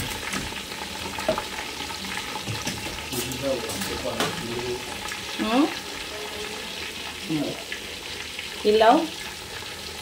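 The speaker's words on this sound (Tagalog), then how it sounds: "Deep fry na itik" Duck pieces deep frying in oil give off a steady, moderate sizzle with soft crackles, while people talk over it through most of the stretch.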